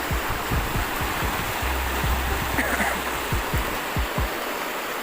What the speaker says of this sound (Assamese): চাওক কি ভয়ানক নদী থাকিল ক'বাতে ইফালে সাগৰৰ নিচিনা এটাহে হৈছে নদী